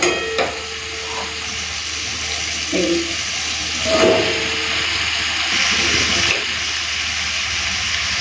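Shrimp, ridge gourd and potato fry in a pan with a loud, steady sizzle, broken by bursts of hissing and clattering as pieces are added and stirred at a few points.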